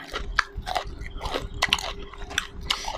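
Crunchy bites into raw bitter gourd, several sharp crisp snaps spaced through the stretch with chewing in between, close to the mic over a low steady hum, no talk.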